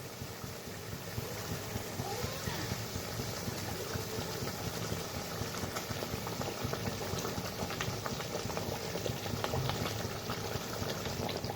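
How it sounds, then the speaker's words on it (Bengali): Boal fish curry gravy boiling in a pot, a continuous bubbling simmer with dense popping, steady and close throughout with no talk. "তো ঝোলটা ভালোভাবে ফুটে গেছে। তো মাছগুলো এক এক করে ছেড়ে দিই।"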